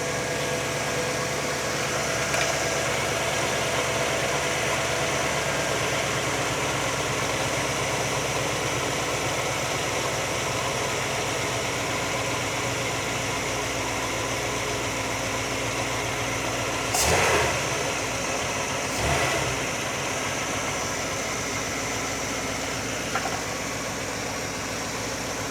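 A car engine idles steadily and close by throughout while its idle speed is being adjusted during ported versus manifold vacuum tuning, a constant mid-pitched hum with two brief louder blips near the end.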